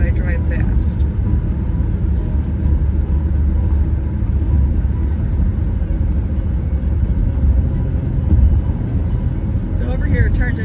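A car driven fast through the streets of Ypsilanti, with a steady loud road and engine rumble and tire roar filling the whole stretch, close and continuous, and no talk over it.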